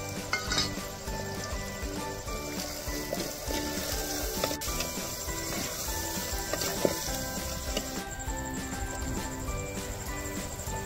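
Spices sizzling and frying in a clay pot for village-style matka chicken, after tomatoes go in; a steady close sizzle with occasional stirring and clinks of utensils, no talk.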